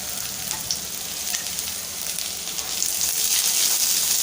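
Sliced onion, fresh coconut pieces, garlic cloves and ginger sauté in a pan for Malvani-style katachi amti, a steady close sizzle of frying that swells slightly louder toward the end, with no talking.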